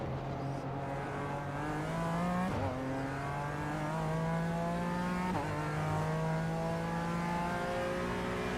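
Race car engines roar in the iRacing video game during a BMW M Power Tour event, a steady loud drone with rising pitch sweeps and two quick gear-shift dips, no talk over it.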